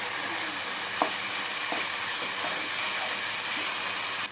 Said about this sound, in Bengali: ভালো করে কষায় নিতে হবে যাতে মশলায় কাঁচা গন্ধ না থাকে।